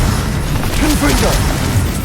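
A fire spell blasts in the video game Hogwarts Legacy, a low booming burst with a rumbling tail under a voice and game sounds.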